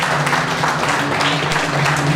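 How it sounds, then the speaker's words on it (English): Audience applause at a motor racing awards presentation at a raceway, dense continuous clapping over a low steady hum, loud and unbroken throughout. "so give them a round of applause"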